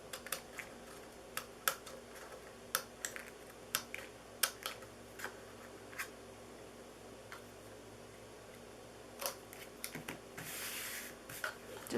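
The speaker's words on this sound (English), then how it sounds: "I'm going to use my little snips. And you're just going to cut up along that triangle." Small paper snips cut up along a triangle on cardstock for a Christmas tree treat box, giving a quiet series of crisp, close clicks and snips at an uneven pace with a short rustle near the end.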